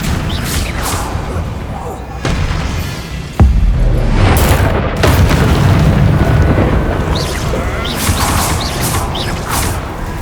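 Fiery spell blasts from the video game Hogwarts Legacy, with a sharp explosive burst and rumbling booms over dense game noise, combat sounds and clatter throughout.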